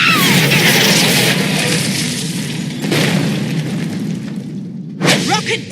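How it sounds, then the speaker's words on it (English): Rocket boosters roar in Tales from the Borderlands, a loud sustained thrusting rush with booming bursts, easing off before another blast near the end. "Rocket boosters are go!"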